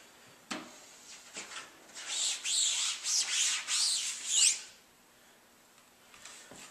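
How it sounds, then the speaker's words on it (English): Liquid emulsion is rubbed by hand into pinholes on a Yudu screen-printing screen: a run of soft, rhythmic scrubbing strokes lasting a few seconds, close and quiet, framed by a couple of light taps. "So we'll rub that into any holes we have there"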